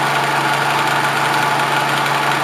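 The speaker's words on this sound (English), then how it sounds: "this is a belt sander, so it's going to turn the exact opposite of what that one does" A belt sander used for stropping carving knives runs alone as a steady, loud, dense mechanical whir with a constant hum and no pauses.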